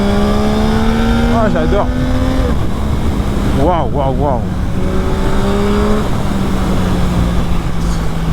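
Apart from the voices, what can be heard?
Yamaha MT-09 motorcycle riding through curves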